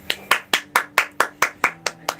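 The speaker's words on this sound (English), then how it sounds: "Clap it up for mama." Hands clap in a steady, even rhythm, about ten sharp claps in a little over two seconds, close and clear, with no talking over them.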